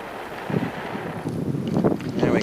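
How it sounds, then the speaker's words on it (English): Strong wind gusts across open ground in the Australian Outback, a steady broadband rush buffeting the microphone that swells louder in the second half. "right now it's super, super windy"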